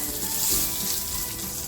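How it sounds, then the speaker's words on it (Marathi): Fried Bombay duck fish lifted out of hot oil, a dense continuous sizzle and bubbling of frying, loud and close with no pauses. "सगळे बोंबील आहेत ना छान फ्राय करून झालेले आहेत काढून घेते"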